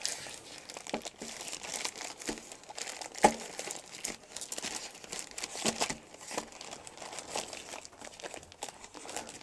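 Strong plastic packaging holding a pack of 50 PVC ID cards is torn open and handled, giving irregular close crinkling and crackling with a few sharp tearing snaps over about ten seconds.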